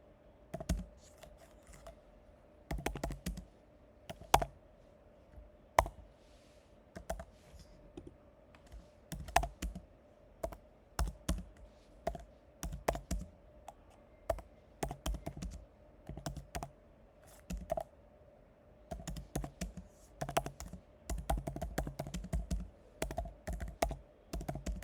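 Steady typing on a computer keyboard while entering FAQ questions for a payment page, with bursts of quick clicky keystrokes and short pauses, close and moderately loud, no talking.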